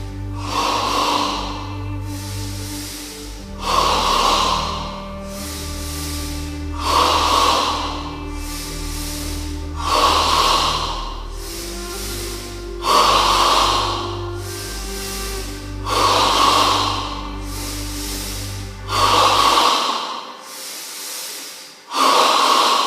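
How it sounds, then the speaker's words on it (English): Rapid chest breathing during a yoga double-breathing exercise: a steady series of about eight forceful breath bursts at an even rhythm, close and loud, over soft sustained background music. "In stage 3 of double breathing, We breathe entirely in the chest 10 times."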